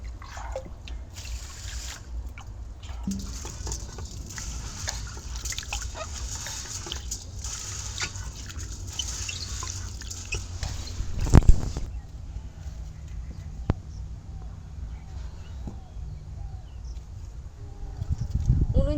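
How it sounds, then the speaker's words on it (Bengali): Rice being washed by hand in a bowl of water in a home kitchen, with soft sloshing, trickling and dripping throughout and a sharper splash near the end. "এবার চালটা ধুয়ে নেবো"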